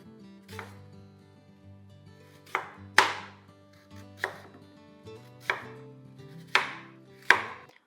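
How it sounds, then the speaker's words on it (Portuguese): A knife chops through peeled apple on a board in about seven sharp, separate strokes spaced unevenly, each a crisp crunch, with no one speaking. "Vamos retirar a casca e picar para depois colocar aqui"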